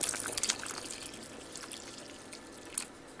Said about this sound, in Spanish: Y vamos a agregarle más agua.